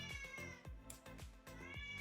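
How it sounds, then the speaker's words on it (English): A domestic cat meows faintly and repeatedly, giving a string of short, quick calls close by in a quiet room. "sorry, my cat is very vocal."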